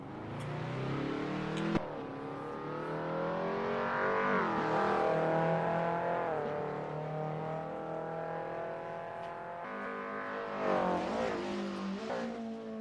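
A race car on a mountain touge time attack run, its engine revving hard through the gears with rising and falling pitch, a sharp shift crack, loud and close, with no talking.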